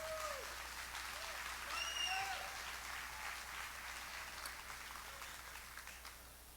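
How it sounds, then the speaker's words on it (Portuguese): A church congregation applauds the Lord during worship, continuous clapping at an even, moderate level with faint whoops and voices rising over it before it tapers slightly. "Pode aplaudir o Senhor, pode continuar aplaudindo."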